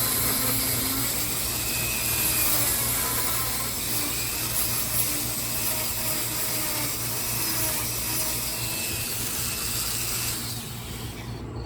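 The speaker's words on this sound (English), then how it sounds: "it's the Kutzall Extreme flame burr I'm using here" Kutzall Extreme flame burr on a rotary power carver grinding into wood while carving a wood spirit face, a continuous loud whirring buzz with rough, gritty scraping texture, steady throughout and ending abruptly.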